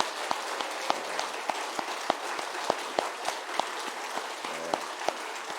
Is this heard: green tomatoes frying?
no